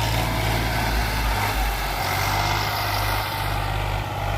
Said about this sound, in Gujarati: ફૂલ સ્પીડમાં લે અટાણે ટ્રેક્ટર.